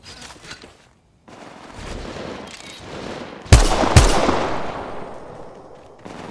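Gunfire rattles in the video game Apex Legends Mobile, a short burst early on, then two loud, close shots followed by rapid automatic fire that trails off in echoing bursts.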